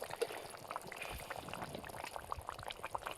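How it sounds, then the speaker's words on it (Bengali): Fish curry gravy made with katla fish and ridge gourd bubbles in a pan, a soft, close, continuous bubbling and gurgling with small irregular pops and no talking. "দেখুন এদিকে খুব ভালো করে ঝোল ফুটে এসেছে"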